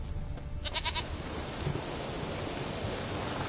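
A goat in Witcher 3: Wild Hunt gives a short, rapid bleat in quick pulses, set against a steady roar of surf-like ambient wash.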